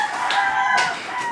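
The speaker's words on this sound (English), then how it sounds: "It's the roosters. Do you hear them?" Caged roosters crow from a nearby yard, two or three drawn-out cock-a-doodle-doo calls overlapping in quick succession, fairly close and clear with no talking.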